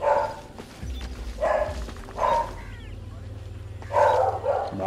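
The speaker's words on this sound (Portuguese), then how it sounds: "Mano, essa cachorra não fica quieta," A female dog barks repeatedly in a room, in short loud bursts at roughly even intervals, over game sounds and background noise.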